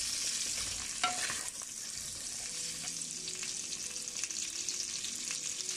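Chillies sizzle steadily in hot oil in a pan while being stirred for a cucumber pickle, a constant bright hiss with faint scrapes and occasional pops, close and with no voices.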